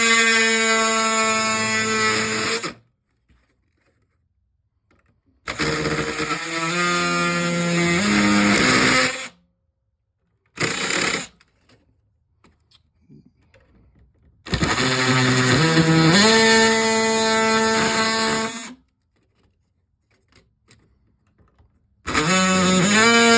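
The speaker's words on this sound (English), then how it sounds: "We're now going to cut through this one, see if this sharper blade makes a difference." A sharp saw blade cuts through plastic LEGO RC switch train track in several loud, close, grinding bursts of a few seconds each, separated by silent pauses.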